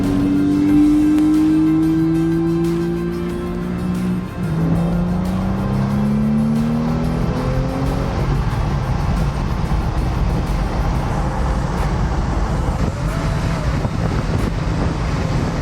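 A Porsche 993 911 C2 accelerates hard out of a roundabout, the engine note climbing through rising gear pulls with a brief dip at a shift, loud and close, followed by sustained road and engine roar.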